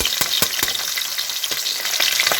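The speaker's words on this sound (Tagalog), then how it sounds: "Ganyan lang ang pagprito." Pompano fish sizzles and spatters loudly in hot oil in a pan, a dense crackle with sharp pops throughout.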